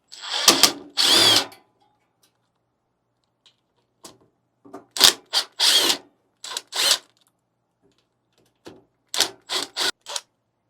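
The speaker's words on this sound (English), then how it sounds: "Let's use the power tool. It'll be a lot easier." Power drill taking out six footing screws from a Lelit Bianca espresso machine: loud, close bursts of whirring in uneven clusters, with quiet gaps and faint clicks between.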